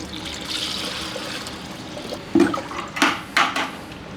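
A car's cooling system gurgles and burps while coolant is bled, with a steady low trickle and then several louder bubbling bursts near the end, close by and with no voices.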